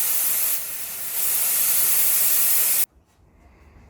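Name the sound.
built-up air hissing out of a tank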